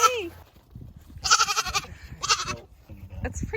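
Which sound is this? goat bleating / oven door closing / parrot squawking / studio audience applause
goat bleating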